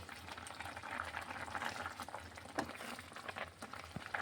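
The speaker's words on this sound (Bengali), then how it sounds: "সুজিটা দিয়ে ভালোভাবে নেড়ে চেড়ে ফুটিয়ে নিচ্ছি।" Semolina payesh with milk bubbles and simmers in a pot while being stirred, a steady close-up gurgling with soft bubbling pops and occasional spoon scrapes, no voices.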